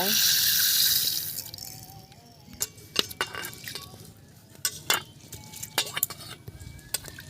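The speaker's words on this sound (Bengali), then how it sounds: "এইভাবে তিন চারবার ধুয়ে নেব জল দিয়ে দিয়ে ডাল ধুয়ে নিয়ে এসছি" Lentils are rinsed by hand in a vessel of water. A loud splash of water comes first, then quieter sloshing with scattered clinks from the vessel, close by.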